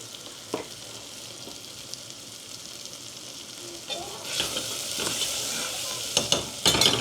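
Cumin, coriander and turmeric fry in a pressure cooker. A soft sizzle swells into a loud, crackling hiss about halfway through, with a few sharp clinks of stirring near the end.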